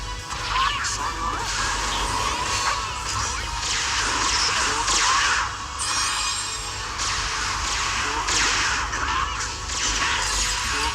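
Pacifista self-destruct explosion attack in the video game One Piece Bounty Rush, bright crackling blasts and whooshing bursts that swell and fade repeatedly over a dense, loud game soundscape.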